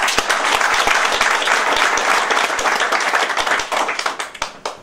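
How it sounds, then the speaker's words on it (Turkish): A large audience at an AK Party provincial advisory council meeting in Bayburt breaks into loud, dense applause that holds steady, then thins into scattered individual claps as it dies away. "kendilerine sizlerden güçlü bir alkış istiyorum"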